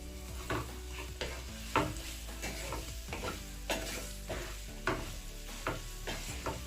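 Green apple pickle being stirred with chili powder and salt over a low flame, a spoon scraping and clacking against the pan in steady repeated strokes with a faint sizzle beneath, close and moderately loud, no voices.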